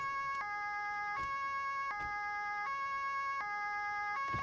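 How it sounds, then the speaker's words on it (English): A police car siren in a video game wails steadily in a repeating two-tone electronic pattern with sharp clicks at each switch, loud and continuous with no talking. "Must turn off sirens."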